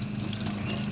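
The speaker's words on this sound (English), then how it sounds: "Yeah, so I turned the water on." Water runs steadily from a sink tap fed by a pump, a continuous close rushing flow with no talking.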